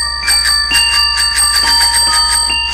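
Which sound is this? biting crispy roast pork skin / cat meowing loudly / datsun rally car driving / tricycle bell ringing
tricycle bell ringing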